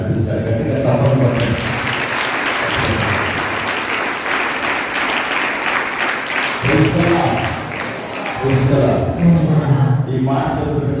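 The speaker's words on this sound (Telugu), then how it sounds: "గట్టిగా చప్పట్లు" A church congregation bursts into loud, sustained applause, a dense crowd of clapping hands that rolls on for several seconds with brief dips and swells, while voices murmur through it.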